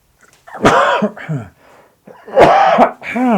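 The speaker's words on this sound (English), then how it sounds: "I've got a cough" Several harsh coughs in two bursts, close and loud, with a brief throaty pause between them.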